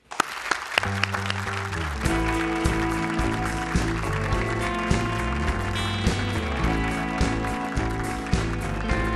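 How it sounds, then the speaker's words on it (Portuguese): A television talk show's studio audience applauds a guest, sending a dense, lively patter of clapping that starts abruptly and carries on steadily under loud background music. "Aplaudam Kim Kataguiri."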